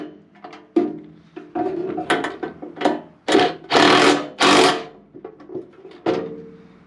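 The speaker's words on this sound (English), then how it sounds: "We're gonna take our 12 millimeter socket and wrench these bolts down." Socket wrench tightening bolts with a 12 millimeter socket while fitting a mod on a Kubota L-Series tractor, heard as a close series of bursts of ratcheting and metallic clicks, several louder grinding strokes in the middle, no talk.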